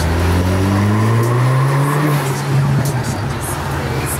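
A stock car running semi-slick tires drones close by, its engine tone sliding up and down with revs while voices talk inside over a rough, continuous road rumble.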